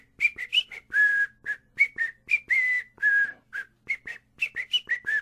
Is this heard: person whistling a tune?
yes